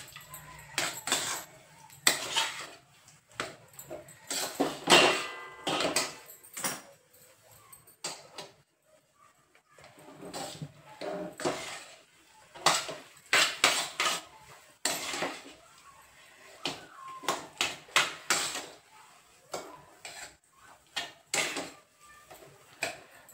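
Crushed peanuts are stirred in a pan for peanut chikki, giving repeated scraping and metallic clatter of a spoon against the pan in irregular bursts with short quiet gaps.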